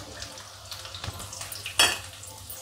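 Onions frying in hot oil with cumin seeds, a soft continuous sizzle with a few stirring scrapes and one sharper clatter, close and moderately loud.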